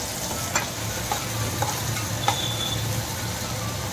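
Onion frying in a pan and being stirred, with a steady sizzle and periodic scraping clicks from the utensil every half second or so, close and alone.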